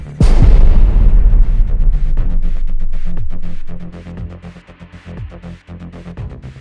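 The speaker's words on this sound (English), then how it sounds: "Then, a sudden explosion." A single heavy explosion as a Russian tank hits a hidden anti-tank mine bursts out at the start, then a long rumbling roar that fades slowly into lower background noise.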